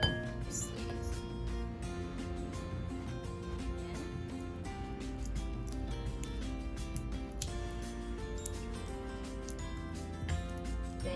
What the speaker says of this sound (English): then you're going to ensure that you mix everything well, right? So you're just blending it.